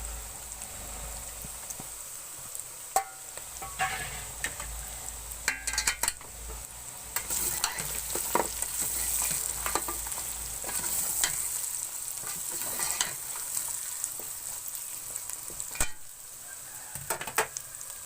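Garlic fries in a pan over low heat with steady sizzling, scattered pops and occasional stirring scrapes, fairly soft and continuous, with no voices.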